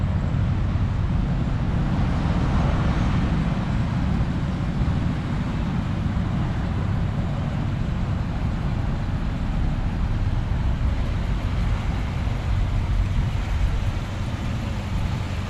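A 1966 Ford Galaxie 500 convertible's engine idles steadily, a constant low rumble with a broad roar, even and unbroken for about fifteen seconds with no talk.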